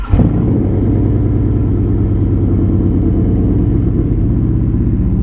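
A Harley-Davidson Street Glide CVO motorcycle engine cold-starts with a sharp crank and catch, then settles into a loud, deep, lumpy idle with a steady low rumble close by.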